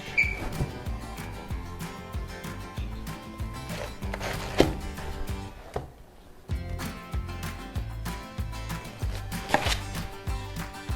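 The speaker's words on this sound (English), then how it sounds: "I'm gonna cut this cabbage" A knife slices cabbage thin on a cutting board, giving fast, rhythmic chopping strokes close up, with one short pause midway before the steady cutting resumes; no talking.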